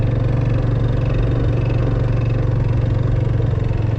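Yamaha Fazer 250 motorcycle from 2024 with 65,000 km, its engine running with a worn internal noise, a loud, close, steady low thrum with a fine regular pulsing throughout and no talk.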